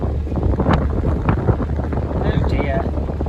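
Wind blowing across a narrowboat on a canal, a steady loud rumbling buffet against the microphone throughout, with faint voices and bird calls underneath.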